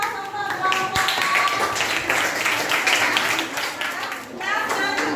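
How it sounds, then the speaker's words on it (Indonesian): A classroom group claps and applauds for a presenting student group, dense hand claps filling the room steadily for several seconds with chatter mixed in. "Beri aplaus untuk kelompok A."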